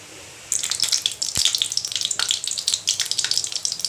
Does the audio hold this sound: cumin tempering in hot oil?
yes